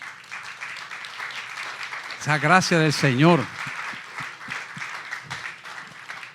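A church congregation at a Good Friday service applauds in a short, loud burst of clapping that rises and falls away, with a preacher speaking in Spanish before and after it.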